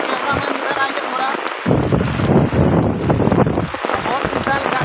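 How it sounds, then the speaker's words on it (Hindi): Heavy rain pours in a storm with wind in a village, a loud dense hiss of drops hammering surfaces that thickens partway through and continues without a break. "गाइस आप देख सकते हैं बहुत खतरनाक बारिश हो रहा है इधर में और हवा भी है"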